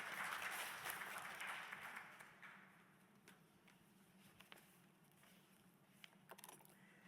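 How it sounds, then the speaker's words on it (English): Applause from a healthcare conference audience for a speaker, a moderate round of clapping that tapers off after two seconds into scattered claps and faint room noise. "A big round of applause"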